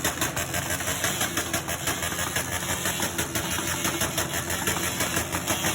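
Bajaj motorcycle engines revving together at a motor show, a dense, loud, continuous roar with rapid throttle blips and pulsing throughout.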